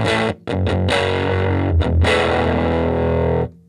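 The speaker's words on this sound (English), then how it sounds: "And then go to the distortion for the chorus" Electric guitar played through a distortion effect: loud, saturated chords with a few short choppy stabs and gaps, then a sustained ringing chord that cuts off abruptly, no talking.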